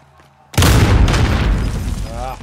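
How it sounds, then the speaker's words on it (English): A video game grenade detonates with a sudden loud, deep boom that rumbles and slowly decays over about two seconds, following a brief quiet moment. "Throw a grenade."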